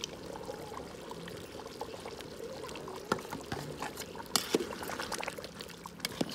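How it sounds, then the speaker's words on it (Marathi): Thick ground spice paste being added into a village chicken curry cooking over a wood-fired clay stove, with soft wet pouring and slopping sounds, a few louder plops near the end, and steady low background noise. "आणि हे सगळं वाटण मी याच्यामध्ये घालत आहे."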